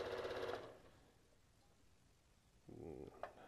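Domestic sewing machine stitching fabric for a balloon ball, a short run of steady whirring at the start, then a quiet pause and a second brief burst near the end.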